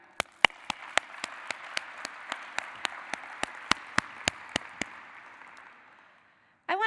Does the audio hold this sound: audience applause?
yes